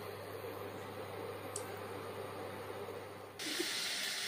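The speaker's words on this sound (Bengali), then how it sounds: "তারপরে পটলগুলোকে সর্ষের তেল দিয়ে ভেজে" Pointed gourd (potol) frying in mustard oil gives a soft, steady hiss close by, with a faint tick partway through and a brighter, louder burst of sizzling near the end.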